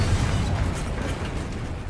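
A Confringo fire-blast spell goes off in a video game, giving a loud, steady, rumbling boom that stays dense and heavy across the whole moment with no pause.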